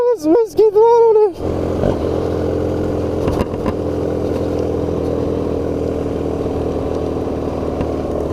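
A voice briefly mimics an engine before a Honda Rebel motorcycle converted into a dirtbike roars in close, holding a loud, steady throttled rumble with rattling clatter.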